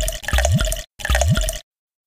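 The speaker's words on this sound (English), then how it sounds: "Tap on each container to pour it in." Water pours from containers into a bathtub in the Peg + Cat bubble bath game: two close, splashing gushes of under a second each, separated by a short gap, with no talking.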